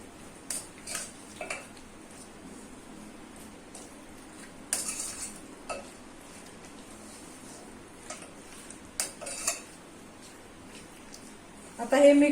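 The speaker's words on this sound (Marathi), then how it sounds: "आता यामध्ये 1 चमचा मीठ आणि 1 चमचा हळद हे मिक्स करून घेऊया।" Half a kilo of washed chicken mixed with a spoon of salt and turmeric in a bowl, giving sparse light clinks and scrapes of spoon on vessel against a quiet kitchen background.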